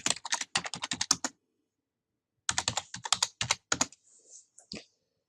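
Rapid bursts of keystrokes on a computer keyboard as router configuration commands are entered, two dense runs of clicking separated by a pause, ending with a few isolated taps.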